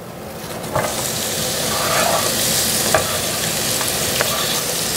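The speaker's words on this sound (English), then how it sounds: "I'm going to fry my onions in this. And I will just cook these until they're translucent." Onions fry in oil in a skillet with a steady, close sizzle that swells slightly, broken by a few light stirring clicks.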